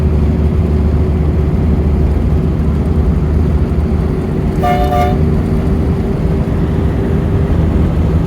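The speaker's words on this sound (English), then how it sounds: "Had to give them a little toot on the blasters." A single short toot from the horn of an Austin America, sounding once over the steady rumble of the little car's engine while driving a road into Joshua Tree National Park.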